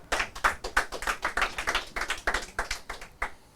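A small audience claps to welcome a guest onto a stage, with distinct, fairly loud individual hand claps in an uneven rhythm that thin out toward the end.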